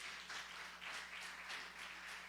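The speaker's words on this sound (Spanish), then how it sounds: "Vamos a dar un fuerte aplauso a Dios por esta enseñanza." A church congregation applauds in a steady, even wash of many hands, faint and somewhat distant, with no talking over it.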